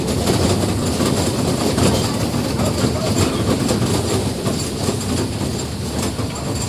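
The Matheran hill railway toy train rumbles steadily along the tracks, wheels clattering loudly and continuously from close inside the carriage.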